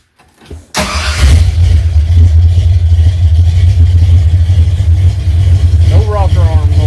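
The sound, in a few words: small block engine starting up and running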